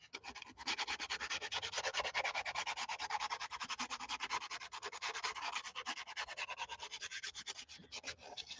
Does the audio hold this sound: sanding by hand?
yes